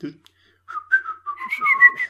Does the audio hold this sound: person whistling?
yes